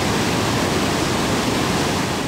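Niagara Falls, the most powerful waterfall in North America, roars as a dense, steady wall of rushing water, loud and continuous with no voices.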